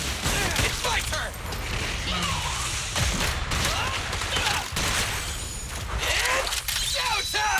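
Rapid gunfire from the video game Zenless Zone Zero crackles in dense, loud bursts with shattering impacts and booms, layered over game music and voiced combat lines.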